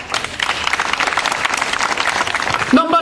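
Dense, loud applause from an audience at an Italian political rally, sustained and steady for about three seconds before cutting off abruptly at the end.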